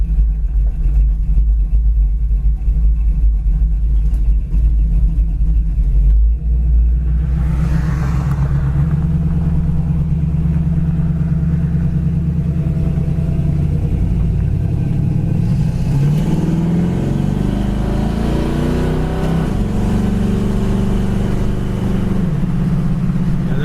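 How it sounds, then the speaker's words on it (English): Loud, deep engine rumble of a 1971 Chevrolet Chevelle idling close by with a steady low throb and cam lope, shifting partway through into a rising rev before settling again. "This car's got a nice idle. It's got a nice, you can just really hear the cam."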